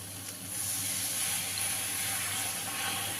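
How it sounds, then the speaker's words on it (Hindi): Water poured into a pan of spiced elephant foot yam (suran) curry, a steady close splashing hiss with faint sizzle that starts after a brief pause and runs on evenly. "तो अब मैं इसमें पानी डाल देती हूँ।"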